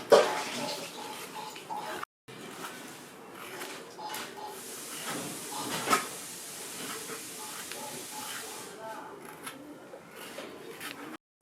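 Peeled raw green mangoes being washed under running water, a steady splashing hiss that continues for several seconds with a brief break and a few clinks, close and moderately loud.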